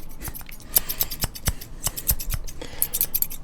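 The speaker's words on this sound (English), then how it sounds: "But Barbershop Scissors" Barbershop scissors snip in crisp, close metallic strokes, some quick clusters and some spaced singles, loud and alone with no voices.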